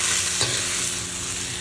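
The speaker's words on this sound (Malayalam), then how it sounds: "നന്നായിട്ട് ഈ എണ്ണയിൽ ഒന്ന് മൊത്തമായിട്ട് മിക്സ് ചെയ്തെടുക്കാം." Potatoes being stirred through hot oil in a pan, a loud continuous sizzle with a scrape of the spoon near the start, close and without talk.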